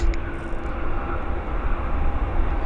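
A JAL airliner taxiing after landing at Vancouver YVR airport, a steady broad engine rumble with a faint whine, distant and constant throughout.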